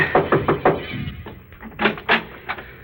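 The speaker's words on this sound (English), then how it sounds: "I knocked at the door." Radio drama sound effect of knuckles rapping on a wooden door, a quick run of knocks followed by a few heavier, spaced raps, close and clear.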